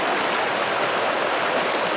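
Floodwater rushes loudly and continuously through Wolf Creek in Arizona over exposed bedrock, a dense, steady roar of churning, boiling current up close with no letup.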